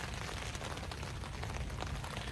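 Rain falls steadily on a tent during a camping trip in stormy weather, a dense, continuous patter with scattered louder drops, close and even throughout.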